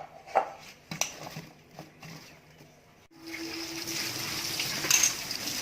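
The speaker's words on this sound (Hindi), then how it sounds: "बाद में नलके के नीचे इसको अच्छे से फिर से धोएंगे" Cauliflower is handled in a kitchen with scattered clinks and light knocks, then tap water starts running steadily, a close, continuous gush that grows slightly louder toward the end.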